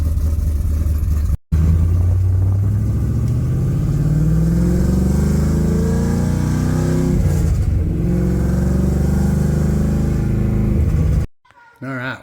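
Engine of a 2002 WS6 Trans Am revving while cruising, a loud, steady drone whose pitch climbs and falls with throttle over about ten seconds, with a brief cut near the start and at the end.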